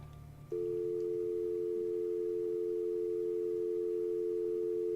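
A steady telephone dial tone from an outside line in a Nancy Drew game starts after a brief low hum and holds unbroken at an even level, loud and alone.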